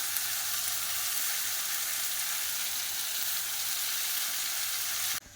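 Cabbage frying in a pan with fried potatoes and spices, a steady hiss of sizzling oil held evenly for several seconds before cutting off abruptly at the end.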